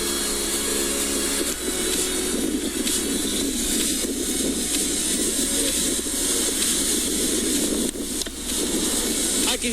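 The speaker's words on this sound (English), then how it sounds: "I can hear it crackling and fizzing." A chemical reaction crackles and fizzes in a toilet bowl, a loud steady hiss with fine crackling that runs throughout, up close.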